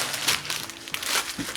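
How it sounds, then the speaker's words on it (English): Parchment paper is crumpled and crinkled by hand in a kitchen, a close series of crisp, irregular rustling bursts over about a second and a half with no speech. "Me fighting with this parchment paper?"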